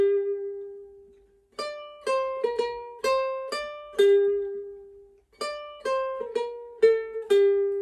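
A ukulele plays a short plucked riff from a theme, bright single notes and quick note pairs, repeated twice with a brief pause, clear and close.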